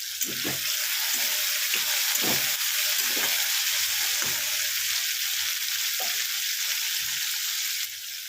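Tomatoes fry and soften in a pan for kabuli chana, a steady sizzle broken by repeated scraping stirs of a spoon roughly every second, easing off slightly at the very end.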